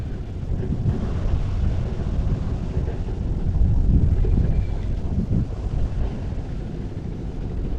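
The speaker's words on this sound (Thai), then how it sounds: "ลมแรงหน่อยนะครับวันนี้" Strong wind buffets the microphone steadily for the whole stretch while fishing for snakehead from open water, a loud continuous roar with gusty swells and no voices.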